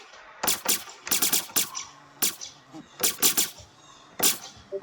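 Weapon shots fire in a video game, sharp percussive bursts in quick clusters of two to four, loud and close against a quiet background with no talk.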